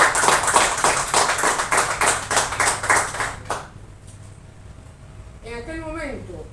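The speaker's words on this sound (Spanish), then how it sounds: "Yo quiero otro aplauso para mí." Rhythmic clapping from a press conference audience, strong and pulsing for about three and a half seconds before stopping abruptly, followed by quiet room tone and then a speaking voice.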